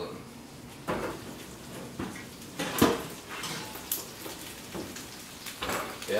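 A baked honey garlic chicken pan is pulled from a kitchen oven, with metallic clanks of pan and rack, a thud of the oven door and scraping handling noises spaced over several seconds, fairly quiet and close.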